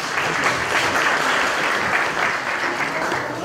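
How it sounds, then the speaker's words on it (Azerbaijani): Sustained applause from an audience at an Azerbaijani diaspora community gathering, a dense steady clatter of many hands filling the room at even loudness throughout, with no talk over it. "Xahiş edirəm, alqışlayaq"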